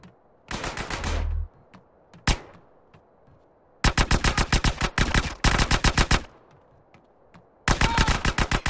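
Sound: gunfire in video game GTA San Andreas

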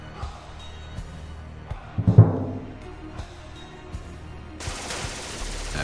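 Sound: MG42 machine gun firing in a war video game

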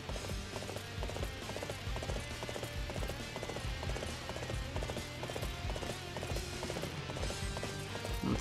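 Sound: horse galloping hoofbeats in video game Dynasty Warriors 8

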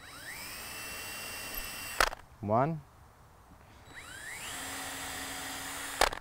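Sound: drill drilling pilot holes for shutter hinge

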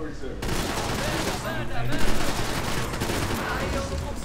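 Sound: gunfire in video game Max Payne 3

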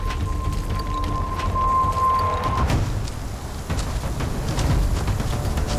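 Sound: typhoon with heavy rain and thunder

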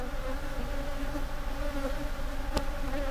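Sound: aggressive Africanized bee colony buzzing

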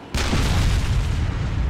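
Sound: tank cannon firing in Arma 2 video game

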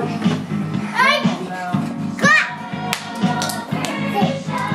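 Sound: children clapping hands

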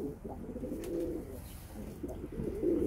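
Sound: pigeons cooing

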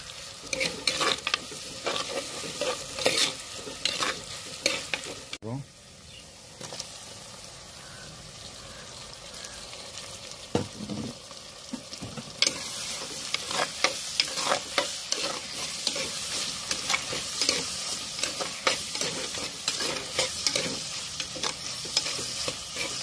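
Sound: onions sautéing in a pan for fish curry

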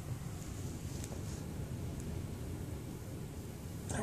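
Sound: wind blowing and rocking an RV

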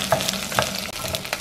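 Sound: stirring chiles frying in a pan

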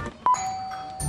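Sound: doorbell ringing

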